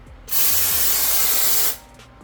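A single sustained hiss of BEEST spray foam leaving a spray gun, loud and close for about a second and a half, starting and stopping cleanly with no voices present.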